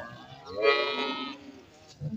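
A cow gives a drawn-out moo nearby at a cattle market in Hathazari, Chittagong, followed by a brief low sound at the end.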